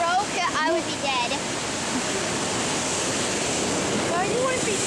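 A waterfall in France roars as a constant, loud broadband rush, with voices chatting over it at times.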